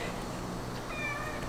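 A house cat meows a couple of times, rising and wavering, close by over a steady low indoor hum; no one speaks.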